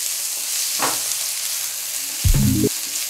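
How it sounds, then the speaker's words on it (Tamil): Chopped onion with mustard seeds and cumin sizzles steadily in hot oil in a pan for a cabbage and pea poriyal, with a close, constant frying hiss and a couple of brief stirring scrapes. "வெங்காயம் வந்து 1-2 நிமிஷம் நல்லா வதக்கி விடுங்க."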